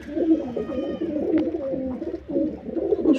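A white male Jiriya pigeon coos while held in the hand, its low throaty rolling coos repeating close up throughout with faint handling rustle and no speech.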